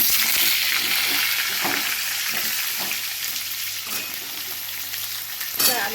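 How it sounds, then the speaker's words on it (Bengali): Potatoes fry in a pan of hot oil tempered with bay leaf, cumin and whole garam masala, giving a steady dense sizzle throughout with occasional stirring scrapes and no talk. "আলুটা ভেজে নেব।"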